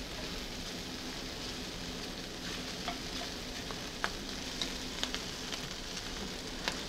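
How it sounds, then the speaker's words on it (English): Mushrooms and bacon sautéing in a pan give a continuous, even sizzle with small spattering pops, close and moderately loud, with no voices. "Try to have your mushroom well golden and the bacon a little bit crispy."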